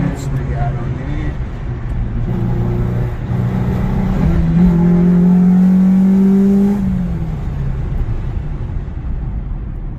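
A Peugeot 206 RC engine drones and rises as the car accelerates through the gears, its pitch climbing and then dropping at a shift, loud and close inside the cabin with someone talking over it.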